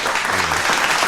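Steady applause from a small audience fills the scene, a dense continuous wash of hand claps on a talk show set, loud and close with no talking over it.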